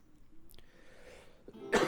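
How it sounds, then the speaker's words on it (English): A person coughs, with a faint throat sound early on and then one sharp, louder cough at the end, close and otherwise quiet. "While I cough out a lung"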